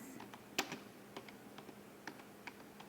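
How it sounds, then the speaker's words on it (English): Fingers tap a computer keyboard while typing text into a Word document, producing faint, irregular keystroke clicks with one sharper click near the start, close and alone in a quiet room. "Now I am typing here."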